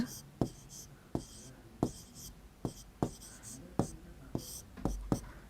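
Chalk or a marker taps and scrapes across a board as numbers are written during a maths lesson, a steady sequence of sharp strokes roughly every half second to a second, close and clear, with quiet speech underneath.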